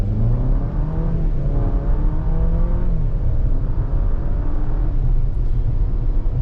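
A 2023 Jeep Compass Trailhawk 4x4 with a 2-liter engine pulls away from a stop, heard from inside as a loud buzzy rising engine note through the gears over a low road rumble.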